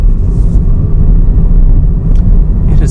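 A 2020 Toyota 86 GTS coupe driving through a tight turn, heard as a loud, steady low rumble from inside the cabin with a few faint higher noises on top and no talk.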